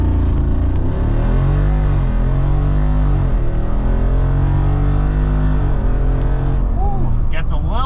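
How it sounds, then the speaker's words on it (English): A 2024 Jeep Wrangler Rubicon 392 with its 470-horsepower V8 launches from a stop, traction control off and four-high auto engaged, the engine roaring loud and close as it rises through several gear changes, with someone talking over it. "0 to 60 in the Rubicon, traction off, 4 high auto on. I'll brake rev it."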